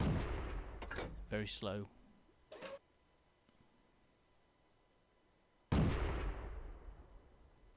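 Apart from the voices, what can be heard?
tank gunfire in the video game World of Tanks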